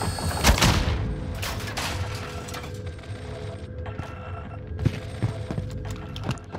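Dense rapid gunfire from an online shooter match crackles near and loud, with scattered sharper shots standing out over a steady background of game noise and no talk.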